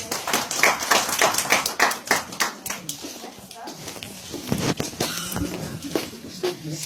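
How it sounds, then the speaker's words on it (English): An audience at a university event bursts into applause, a dense round of clapping that thins out midway and then swells again, with scattered voices and a child's chatter mixed in. "give them a round of applause"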